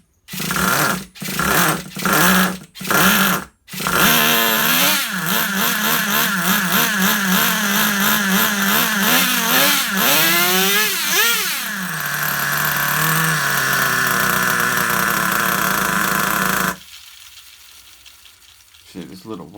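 A vintage Traxxas Rustler RC car's nitro engine on first startup after a year and a half sputters in a few short bursts, then settles into a loud, steady buzzing idle that wavers in pitch before cutting out, leaving quiet.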